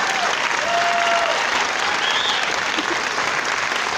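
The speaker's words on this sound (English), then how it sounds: "we just owe her a round of applause" Steady, loud round of applause fills an audience hall in Traverse City, Michigan, with dense clapping at an even level throughout and a few faint whistles and voices mixed in.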